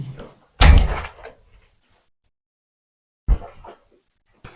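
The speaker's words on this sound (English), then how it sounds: "if you open door like this, the door they come by itself" HDF wooden door with frame and handle swinging shut by itself, giving a loud thud early on followed by quieter knocks and bumps with silent gaps between them.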